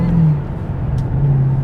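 A 2023 Dodge Challenger Black Ghost engine under throttle, a loud low droning hum that holds steady and close, dipping slightly in the middle.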